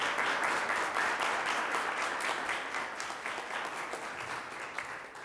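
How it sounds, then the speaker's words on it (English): Dense, continuous applause from an audience at the My Miami Migration Story Contest award ceremony, a steady roar of many hands clapping that eases slightly toward the end. "I ask a very sound round of applause"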